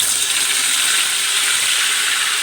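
Steady, loud crackling hiss of cloves, black pepper and cardamom sizzling in hot oil, continuous and close with no talking.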